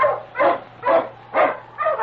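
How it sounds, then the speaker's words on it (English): Barking of a husky sled dog, an Eskimo lead dog, in an old radio drama: five rhythmic, evenly spaced barks, fairly loud and close, over a faint low hum with no talking. "The Wonder Dog King, swiftest and strongest of Eskimo lead dogs"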